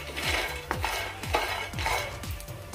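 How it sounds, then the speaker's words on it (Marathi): Peanuts dry-roast in a pan for Sangli-style peanut chutney, with a steady rhythm of about five scraping stirs over a continuous low sizzle and rattle, close and fairly loud. "आता हे खरपूस असे आपण भाजून घेऊया पॅनमध्ये"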